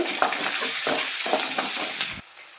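Steady sizzling in a pan as a curd-rice tempering fries, with rhythmic stirring scrapes every half second or so, close and clear, ending abruptly.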